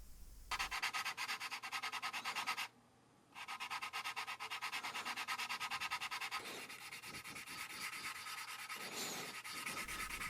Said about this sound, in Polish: Nakładam szpachlówkę i po wyschnięciu szlifuję cały błotnik